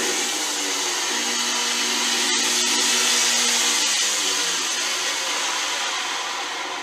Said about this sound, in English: And I'm blending in a blend tech.